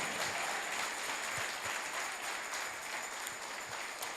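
Church congregation applauding during an evening worship service, a faint, distant wash of continuous clapping heard alone.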